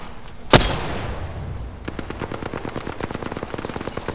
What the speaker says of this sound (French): Je lui ai envoyé une grosse rafale, il a plus d'armure.